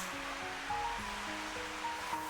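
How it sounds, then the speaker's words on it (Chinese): Eggs being rinsed in a large bowl of lightly salted water, giving a steady wet washing and swishing noise with no voices. "用淡盐水清洗掉表面的鸡粪和大肠杆菌"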